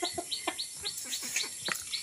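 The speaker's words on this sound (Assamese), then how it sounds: "এয়া মুৰ্গীকেইটাকহে চাউল দিবলৈ গৈছে" Chickens being fed rice cluck and chirp busily nearby, a rapid run of short, repeated calls overlapping for about two seconds over a steady background, with no speech.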